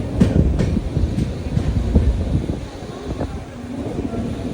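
A local train rumbles past near Thane station in Mumbai, loud close clattering of wheels over rail joints with rhythmic clicks over a constant low roar.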